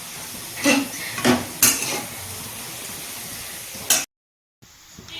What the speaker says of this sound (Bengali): এদিকে আলু ভাজা করছি বা হাত দিয়ে নাড়ছি